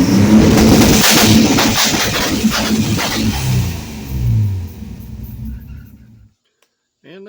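A 1970 Ford Torino engine, heard close and loud, revs hard against an ignition cut-out, giving a choppy popping rumble that rises and falls before it cuts away into near silence.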